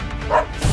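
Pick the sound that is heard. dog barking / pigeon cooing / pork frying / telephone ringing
dog barking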